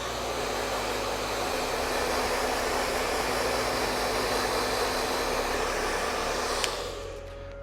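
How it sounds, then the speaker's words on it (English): Close, steady whoosh of a hair dryer blowing on twisted hair to set a beach matte spray, running continuously before cutting off near the end. "now I'm going to put the hairdryer on it just to dry the product in a little bit"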